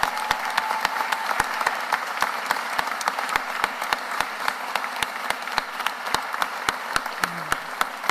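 An audience applauds the city solicitor at a Philadelphia press event, with sparse, modest clapping and a few sharper individual claps standing out above it.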